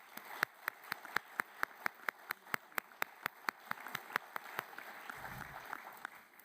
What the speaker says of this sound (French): On donne un bon main d'applaudissements.